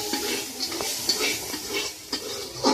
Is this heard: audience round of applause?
no